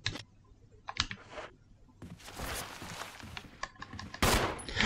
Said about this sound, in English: I need to use my handgun.